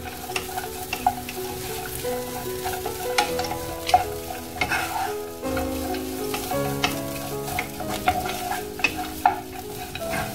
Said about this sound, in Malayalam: നട്ട്സ് ഒക്കെ റോസ്റ്റ് ചെയ്ത് വരുമ്പോൾ ബട്ടറിൽ നല്ലതായിട്ട് റോസ്റ്റ് ചെയ്ത് വരുന്നിട്ട്